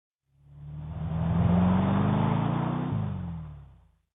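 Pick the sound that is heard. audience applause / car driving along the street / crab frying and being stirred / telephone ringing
car driving along the street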